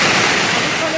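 A steady roar of rushing water from the Cachoeira do Urubu waterfall in Barbacena, loud and broadband, continuous for the whole second with no clear voices on top.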